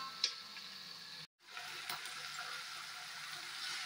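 Vegetables frying in a covered pan for kovakkai fry, a steady close sizzle and hiss with a faint tap early on, a brief cutout, then the frying resuming evenly.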